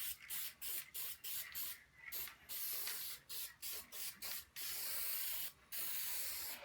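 An aerosol spray paint can sprays acrylic paint onto an abstract painting in short, sharp hissing bursts separated by brief pauses, ending with two longer sustained sprays, close and clear with no talking.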